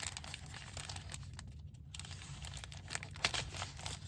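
Folded paper packaging from an advent calendar being cut open by hand, soft close-up crinkling and scraping with a brief quiet pause, then a sharper cut or snip near the end.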